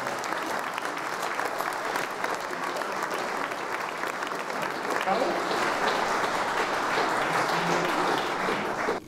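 Audience applause at a New Year reception in Den Helder, steady sustained clapping from a crowd filling the whole stretch, loud and close with no pauses.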